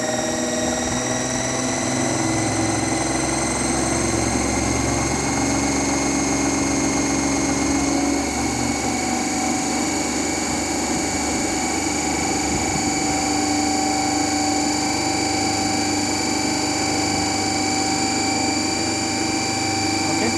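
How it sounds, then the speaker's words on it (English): A DC shunt generator set runs at 1500 RPM in a lab, giving a steady, unbroken mechanical hum with a constant whine that stays loud and even for the whole stretch, with no talk over it. "So we have set this speed of the machine to be 1500 RPM."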